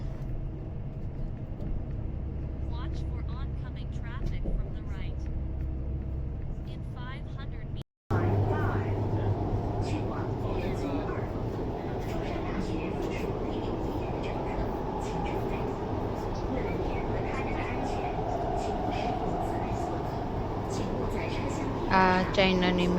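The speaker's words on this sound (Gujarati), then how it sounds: "આ ચાઇનાની મેટ્રો ટ્રેન છે, તમે જોઈ શકો છો." A metro train in Guangzhou, China, runs with a steady low rumble and rolling hum, heard from on board, while people talk over it throughout; a brief cut breaks the sound partway.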